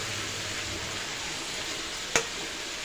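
Stuffed bitter gourds frying in a pan with masala give a continuous close sizzle, with one sharp utensil knock near the end.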